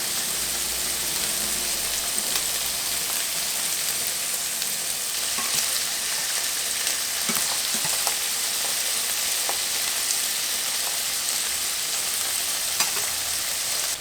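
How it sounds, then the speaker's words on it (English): Steaks sear in a hot pan, a steady close sizzle and crackle with scattered pops running throughout without pause. "Just spit as much as you can and just let them sear for about 3 minutes, and then we're going to flip them."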